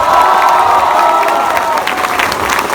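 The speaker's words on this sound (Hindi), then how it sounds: "जोरदार तालियां बजाओ यार।" A large audience at a youth venture event in a hall claps and cheers loudly and continuously, with shouts and whoops rising above steady applause throughout.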